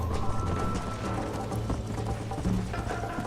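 Hooves pound in a fast, steady galloping rhythm from a horse in the video game Red Dead Redemption, close and continuous, with no talking.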